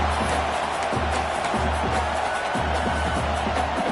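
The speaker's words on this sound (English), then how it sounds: "This crowd trying to do its part to get inside the kicker's head." A football stadium crowd roars during a field goal attempt in Tulane versus Tennessee, a dense, loud, sustained wash of noise with some cheering and no clear pauses.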